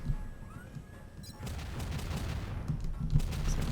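Weapon fire in the shooter game Turok 3: Remastered, a dull rumbling barrage of shots and booms that swells midway and continues with heavy low-end thuds.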